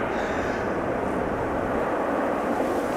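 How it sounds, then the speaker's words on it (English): An Embraer 190 jet landing with its thrust reversers deployed gives a sustained, dense roar that holds steady and loud for a few seconds. "Reversers being used there by the Embraer 190."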